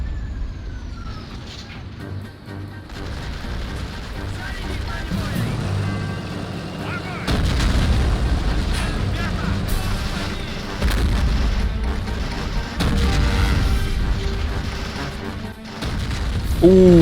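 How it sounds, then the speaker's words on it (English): Explosions and artillery fire in the war video game Men of War, heavy low booms and rumbling blasts rolling on continuously for the whole stretch, loud and dense with overlapping impacts and battlefield noise. "everything's just blowing up"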